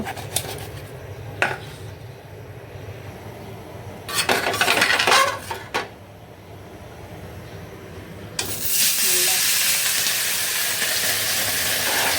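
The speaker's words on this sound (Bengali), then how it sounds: "এই যে মাছটা একটু হালকা ভেজে নিব" Fish lightly frying in a pan in a home kitchen gives a steady, broad sizzle that swells in during the second half, after quieter clatter and a few brief knocks.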